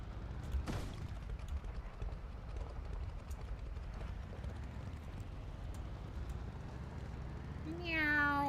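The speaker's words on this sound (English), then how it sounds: "Meow." A cat meows once near the end, a clear rising harmonic call over steady background noise, following an earlier sharp high squeal and ongoing low rumble.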